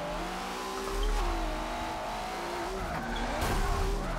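A turbocharged car in a tandem drifting video game holds a steady engine drone throughout, with continuous tire squeal and skidding layered on top.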